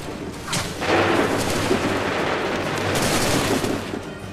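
Musket volley gunfire in Assassin's Creed 3 at the Battle at Lexington: a loud, rolling burst of many shots that cracks near the start and keeps rumbling and crackling through the clip, with a second swell of fire near the end.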